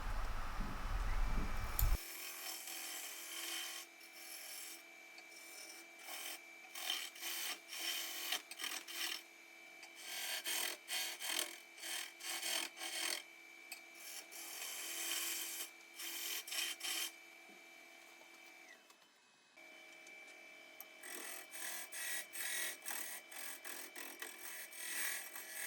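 Rough shaping of a wooden two-piece hollow form on a woodturning lathe, a close, steady scraping and rasping of the tool against the spinning wood, broken by brief pauses and a short drop near the end.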